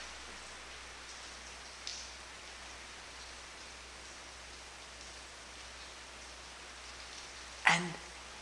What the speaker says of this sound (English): let the rain take care of itself